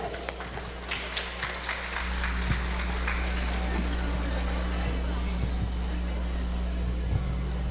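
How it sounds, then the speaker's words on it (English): Audience at an Indian Arrival Day celebration of the Tobago Hindu Society clapping for a society treasurer, scattered claps over a loud steady low hum, the applause thinning and fading into the background noise. "Let's get a round of applause for Devika."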